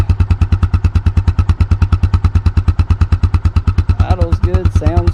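A 2002 Arctic Cat 500cc engine idles close by with a loud, steady, evenly spaced thumping beat, its rhythm unbroken for several seconds before a brief murmur of voices enters near the end.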